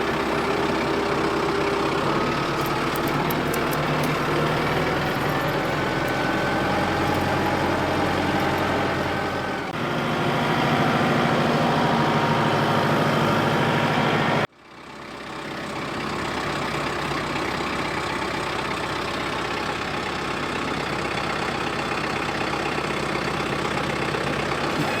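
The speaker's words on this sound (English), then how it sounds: "fire up that big tractor and let's see what we got" A Kubota BX23S compact tractor engine runs at a steady, close diesel idle, changes pitch briefly, cuts out for an instant, then settles back into a continuous rumble.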